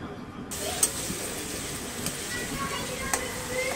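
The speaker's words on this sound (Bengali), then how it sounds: "এটা এখন ভালোভাবে ভেজে নিতে হবে।" Chopped onions frying in a pan for beef biryani, a steady soft sizzle with a few faint clinks, fairly close and continuous throughout.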